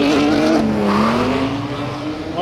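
A Lamborghini STO race car at a roll racing event at Queensland Raceway, its engine roaring loud and sustained with a pitch that dips then climbs as it accelerates past.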